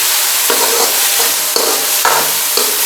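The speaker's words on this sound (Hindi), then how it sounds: "वे प्याज इसी पे ऑयल में डाल देते हैं। और इनको अच्छी तरह भून लेंगे।" Onions frying in hot oil for an arvi salan gravy, with a loud, continuous sizzle and spatter broken by scraping stirs of a spoon about every half second.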